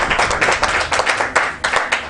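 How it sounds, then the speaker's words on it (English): A small group claps in a round of applause at a family reunion, a close, brisk burst of hand claps lasting a couple of seconds. "I'd like to give a round of applause for Nat Bates"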